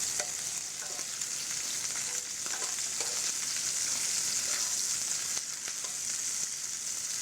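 Black tiger prawns sear in a hot pan, a loud continuous sizzle and crackle with occasional stirring clatter, close and unbroken by speech.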